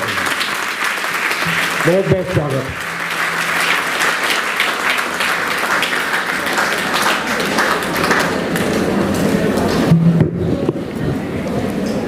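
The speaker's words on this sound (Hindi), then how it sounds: "जोरदार ताली बजाइए।" An audience at a formal Hindi-language gathering applauds to welcome a speaker to the stage, a dense steady wave of clapping over several seconds while an announcer's voice carries on above it.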